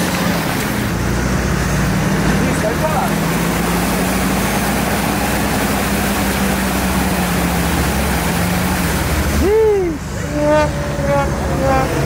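A Dodge RAM pickup stuck in mud has its engine droning steadily and rising under acceleration for a long stretch. Wheels churn, and the sound dips near the end as voices talk over it.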